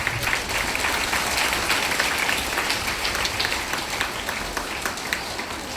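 A hall of schoolgirls at a girls' higher secondary school claps in steady, dense applause, many hands at once, loud and continuous without letup, with no talk over it.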